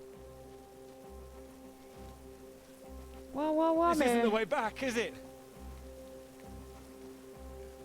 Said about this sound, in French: il pleut d'un coup, là?